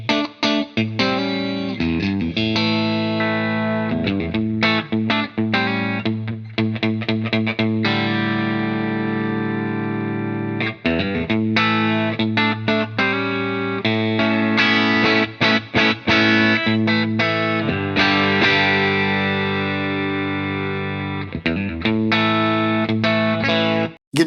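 Electric guitar through a Wampler Ego 76 compressor pedal with some blend dialed in, chords and single notes ringing out sustained and even in level, with a slightly driven edge, played continuously with no talking.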